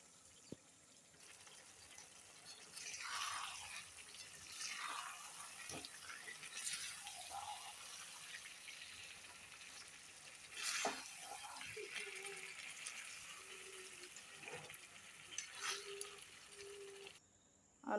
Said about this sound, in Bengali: আলুটা কষিয়ে ঝোলে জল দিয়ে দেওয়া হলো।